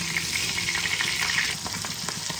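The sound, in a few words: pabda fish frying in mustard oil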